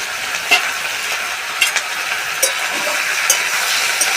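Vegetables frying in a pan with cumin, turmeric and chili powder give off a steady close sizzle. A few sharp stirring scrapes and clicks of a utensil land over it, with no talking.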